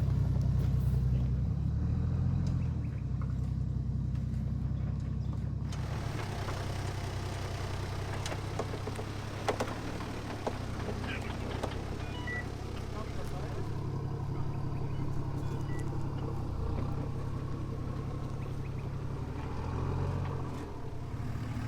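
A 4WD vehicle with a snorkel reversing slowly down over rocks on a remote Cape York track, with brake trouble, its engine rumbling steadily at low revs throughout, with occasional knocks and scrapes and people talking nearby.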